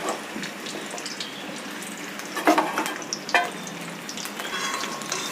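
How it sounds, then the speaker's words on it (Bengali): Potatoes and pointed gourd sizzle in hot white oil in a kadai, a steady crackling fry with a few louder stirring clatters partway through, no voices. "এখন গরম তেলে আলু এবং পটল ছেড়ে দেব।"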